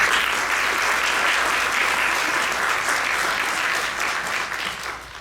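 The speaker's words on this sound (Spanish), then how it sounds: "quien recibimos con fuerte aplauso." A ceremonial audience at the Peruvian Academy of Law gives loud applause, a thick, continuous roar of clapping that holds steady and then begins to taper near the end.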